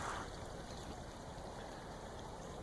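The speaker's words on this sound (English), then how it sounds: "It's a beautiful little creek off of a sulfur spring." Water from a small sulfur-spring creek trickles steadily down a narrow canal near Tampa, a soft continuous wash of running water close by with no voices.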